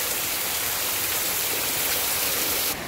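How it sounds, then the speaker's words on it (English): A waterfall along the Ponderosa Pine Scenic Byway, heard from right beneath the falls, roars as a loud, constant hiss of rushing water that fills the whole clip before cutting off abruptly. "I found a nice spot right underneath the waterfalls"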